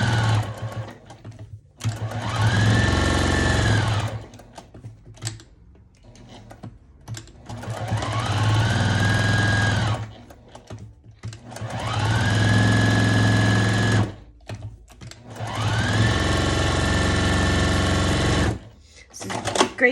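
A sewing machine stitching around the edge of a rag quilt block, running in four loud, close bursts of whirring, each a few seconds long, separated by short pauses, with no talk over it.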